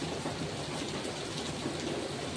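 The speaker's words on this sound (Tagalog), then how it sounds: "Ayan, umuulan." Steady, dense rainfall pours down outside a home, a continuous even hiss of drops with no breaks and no voices.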